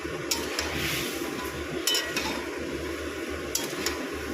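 Turmeric being stir-fried in a pan for a Bengali jackfruit and shrimp dish: low steady sizzling under repeated scrapes and clinks of a utensil against the pan, close and moderately loud, with no voices.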